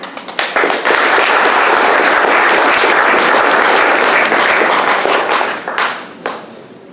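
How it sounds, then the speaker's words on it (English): Loud, close audience applause for a human rights foundation worker swells quickly into a dense, sustained burst of clapping lasting several seconds before trailing off into a few scattered final claps. "Please, can you clap for her?"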